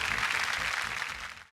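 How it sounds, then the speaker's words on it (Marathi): A TV show studio audience breaks into loud, dense applause that holds steady and then cuts off abruptly. "जोरदार टाळ्या"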